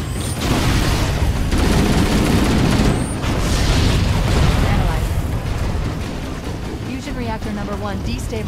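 Heavy booming explosions in Halo: Combat Evolved as a reactor is destabilized, deep rumbling blasts and crackling debris that roll loudly through the whole stretch, then fade into lighter metallic clatter.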